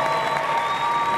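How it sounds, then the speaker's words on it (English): A crowd at a live fight event in San Angelo, Texas claps for both fighters after a split decision, steady dense applause filling the whole moment, with a faint tone running underneath. "please show respect by clapping for both these guys"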